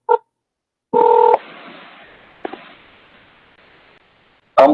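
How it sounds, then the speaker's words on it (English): Telephone dialing tones from a phone placing a call: a short beep, a longer loud dual-tone burst, then a low hiss of line noise before another tone at the end, with no voices. "I'm calling you"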